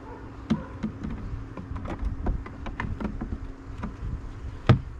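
Honey bees around a hive during the last honey extraction, a low continuous buzz close by, punctuated by frequent light taps and clicks of frames being handled and a sharper knock near the end.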